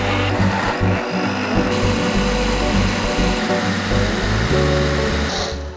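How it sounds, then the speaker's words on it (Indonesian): A blender grinds lemongrass, galangal, shallots, garlic and chilies with a little oil and water for tom yum paste, a loud continuous whir that shifts pitch as the load changes, heard alone. "Ini aku bakalan blender pakai sedikit minyak,"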